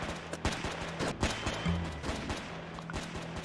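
Rapid volleys of gunfire ring out from defending units in Roblox SCP Tower Defense, sharp repeated shots in quick bursts, moderately loud over a steady game background.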